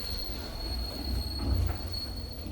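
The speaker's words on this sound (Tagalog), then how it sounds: "Nakasakay ng cable car." Cable car descending to the port on Santorini, Greece, giving a steady mechanical rumble with a thin, sustained high squeal of wheels on cable running through the short ride.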